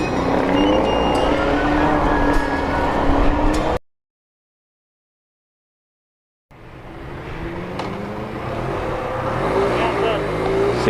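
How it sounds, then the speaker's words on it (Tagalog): Busy road traffic heard from a big adventure-style motorbike, a steady broad roar of passing cars and engines that cuts out briefly, then returns and swells again. "Medyo marami sasakyan nga lang dito."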